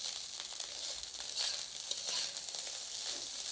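Rice sizzling as it fries in a pan at home, a steady close crackle and hiss with brief stirring scrapes, no talking.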